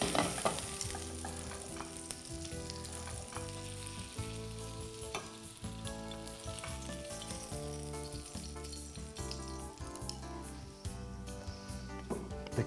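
Fish fries in a pan with a continuous loud sizzle and crackle, with occasional scraping and stirring sounds over a steady bed of hissing.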